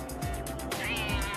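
A cat gives a single drawn-out, rising meow over a steady broadband background that sounds like vehicle or street noise during a police chase.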